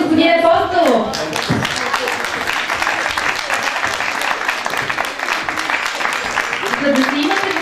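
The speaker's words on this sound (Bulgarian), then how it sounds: "Аплодисменти за господин Апостолов!" Sustained applause fills a community centre hall at the 80th anniversary concert of the Dobri Chintulov 1935 chitalishte, dense and steady throughout, with a voice speaking over the start and end.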